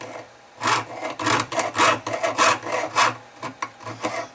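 A fine jeweler's saw cutting metal at a jeweler's bench, a close, rhythmic rasping of repeated back-and-forth strokes that pause briefly before resuming at a steady, gentle pace.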